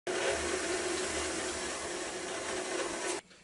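Liquid ingredients poured into thick blueberry muffin batter in a homestead kitchen, a close, steady splashing rush lasting about three seconds before stopping abruptly.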